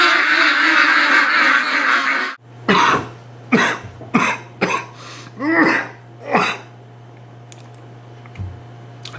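Ducks in winter give a series of loud, close, raspy quacks in uneven bursts, with a steady low hum underneath after a burst of broadband noise at the start.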